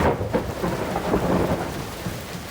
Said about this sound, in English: Oh man, this rain is killing me